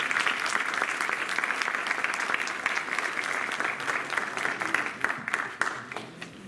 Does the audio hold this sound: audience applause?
yes